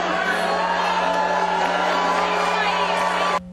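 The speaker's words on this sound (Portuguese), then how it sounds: "por diversas vezes foram vaiados pela comunidade" A community crowd at a public meeting shouts and jeers loudly at representatives of the organization running the local health unit, a sustained dense roar of raised voices that cuts off abruptly near the end.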